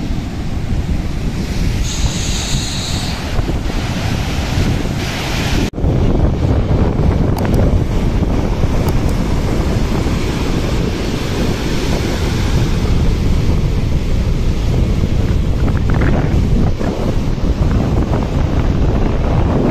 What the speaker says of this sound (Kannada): ಗಾಳಿ ತುಲೆ ಒಟ್ರಾಸಿ ಗಾಳಿ ಬರೋದು